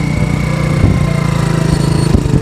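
Motorcycle engine running steadily while riding at night near a deserted school, a continuous loud chugging drone throughout with no talk.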